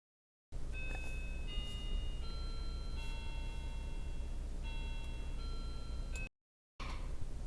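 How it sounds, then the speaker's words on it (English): A doorbell chimes indoors during a craft session, several sustained melodic tones ringing one after another at moderate volume over a low background hum. "that was my doorbell, but Mr. G's just answered it."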